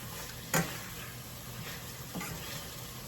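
Minced garlic browning in a lime juice sauce in a pan gives a steady faint sizzle, broken by a couple of soft clicks of stirring.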